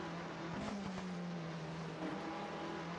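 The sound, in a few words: Alpine Renault Formula 3 race car engine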